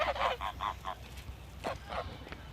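Ducks and other waterbirds offered bread, with a run of loud nasal honks and quacks from nearby birds at first, then quieter, sparser calls over faint background noise, with no talk.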